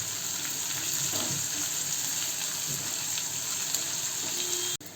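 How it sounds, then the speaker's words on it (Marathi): Garlic and bell pepper sauté in a pan for paneer fried rice, a steady close sizzle with faint stirring touches and an abrupt clunk near the end. "त्यामध्ये टाकूया थोडासा लसूण आणि शिमला मिरची. सगळं परत परतून घेऊया."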